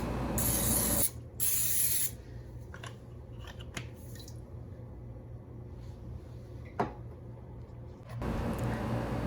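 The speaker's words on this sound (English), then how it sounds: "spray down your muffin tins with some cooking spray in each of the holes" Cooking spray hissing from an aerosol can into the cups of a muffin tin, in two loud bursts near the start and one more at the end, with softer quiet handling sounds between them.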